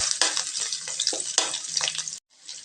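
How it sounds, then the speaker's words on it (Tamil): Garlic and ginger sizzle in hot oil in a pan, a steady bright frying hiss with stirring scrapes and bursts throughout, stopping abruptly near the end before a softer hiss resumes. "இப்போ இதுவும் நல்லா வதங்கட்டுங்க"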